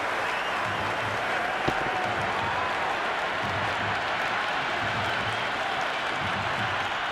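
Cricket stadium crowd at an IPL match between Gujarat Titans and Punjab Kings roars after a six, a broad continuous cheer mixed with clapping that stays loud and sustained throughout.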